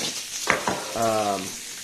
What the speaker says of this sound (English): So we're frying bacon at the same time.